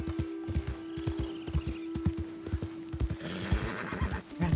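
A horse in Red Dead Redemption 2 whinnies while its hooves clop in a steady, close rhythm, the neigh rising near the end over the continuing footfalls.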